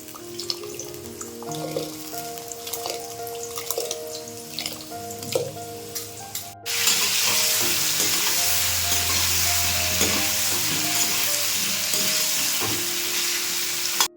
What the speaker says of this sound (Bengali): দেখুন এখানে ডাল কিন্তু ফুটতে শুরু করে দিয়েছে।